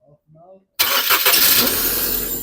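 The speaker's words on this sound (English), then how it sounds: "switch off and again crank" Engine of a 2005 Ford Fiesta cranking via a push start switch, a loud sudden whirring burst after a brief spoken voice, sustained for nearly two seconds.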